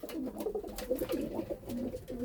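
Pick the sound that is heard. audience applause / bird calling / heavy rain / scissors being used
bird calling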